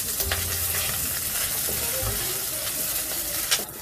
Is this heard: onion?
yes